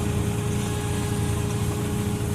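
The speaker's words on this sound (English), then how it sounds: "That's a strainer struggling to suck oil up when the oil's cold and thick." A Saab B204 engine runs with its sump strainer whining as it struggles to draw cold, thick oil, a steady, continuous tone sitting over the low engine hum, close up with no voices.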